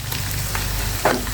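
Cabbage and carrot pitha frying in a pan: a steady sizzle of oil throughout, with a brief sharper crackle near the end.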